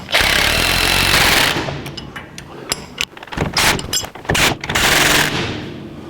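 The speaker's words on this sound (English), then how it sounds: "let's tighten some bolts and nuts" Power tool tightening bolts and nuts on the spindle of a 1949 Chevrolet gasser, a loud sustained rattling burst followed by several short sharp hammering bursts, close up.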